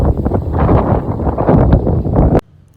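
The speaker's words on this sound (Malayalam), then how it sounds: "ആ കാറ്റിൻ്റെ സൗണ്ട് കേട്ടോ" Strong wind buffets the microphone on the Ramakkalmedu hilltop in Idukki, a loud continuous roaring rush that gusts and surges before cutting off abruptly near the end.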